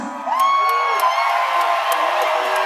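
A large crowd at a rock concert in a Pittsburgh outdoor pavilion roars and cheers continuously, with whoops and whistles rising above a dense, loud wall of voices.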